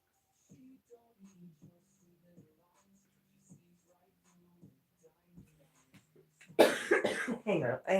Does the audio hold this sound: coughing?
yes